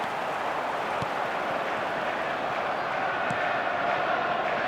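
A stadium crowd at a Manchester United football match keeps up a dense, continuous rumble of noise, broad and steady, with a commentator talking over it.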